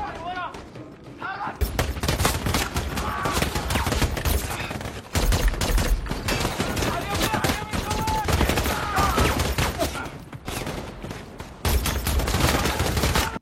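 Bursts of gunfire crackle through a film shootout between a team and terrorists, loud sustained volleys punctuated by brief pauses and heavy thumps, layered with dramatic score and shouting voices.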